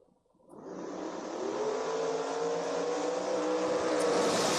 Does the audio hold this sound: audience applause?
no